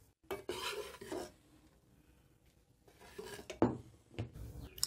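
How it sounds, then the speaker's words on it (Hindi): Flour roasting in a pan is stirred with a utensil in a few short scraping bursts, scratching against the metal with quiet pauses between and no talk. "लगातार हम इसको मिक्स करते रहेंगे।"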